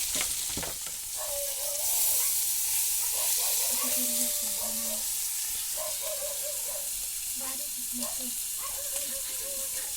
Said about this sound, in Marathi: या बाजूक फ्राय करूचा चालू आहे